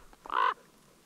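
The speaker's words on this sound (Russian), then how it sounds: "Этой ситуацией не преминули воспользоваться вороны, которые еще до рассвета заприметили на заснеженном поле погибшую лису." Crow calling over a dead fox in a snowy winter field: a single harsh, loud caw lasting about a quarter second, close by, with quiet surroundings before and after.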